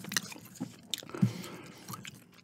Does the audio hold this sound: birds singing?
no